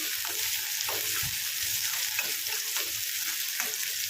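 Onion, green chili and curry leaves fry in a pan, a dense, continuous close sizzle with soft rhythmic scrapes of stirring underneath and no talking.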